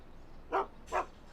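A dog in the video game Shadow of Destiny gives two short, mid-pitched barks about half a second apart over a faint steady background hum.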